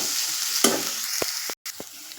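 Grated boiled raw banana is stirred in a frying pan, giving soft sizzling under a few quick spoon scrapes.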